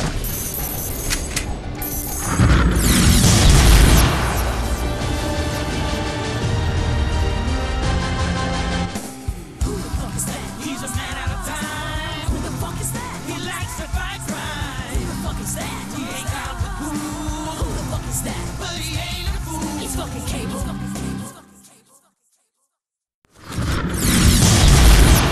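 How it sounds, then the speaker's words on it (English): Grenade blasts in the PC game Deadpool, loud booming detonations layered over dense game music and action noise, with a brief silent gap near the end before the din resumes. "He sticks us with a grenade."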